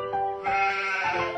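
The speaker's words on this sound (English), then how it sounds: "the sheep is hungry as well" A sheep bleats twice in close succession, a wavering, nasal call heard up close with no voices around it.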